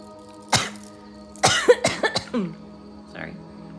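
A person coughs indoors: one sharp cough, then a tight burst of several coughs with a throat-clearing rasp, and a softer cough near the end, close and loud against a quiet room.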